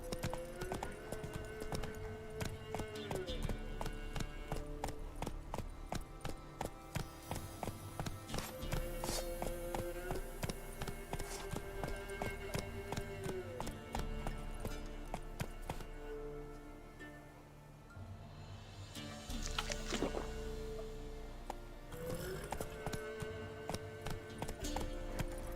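Horse hooves clip-clop steadily at a gallop in The Witcher 3, a continuous rhythmic drumming running the whole time under layered game music, with a brief thinner patch near the middle.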